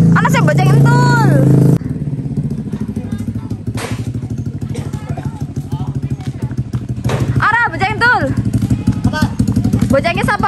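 A motorcycle engine starts up and then idles in a steady low putter, heard under loud, close talking and shouting from several people nearby.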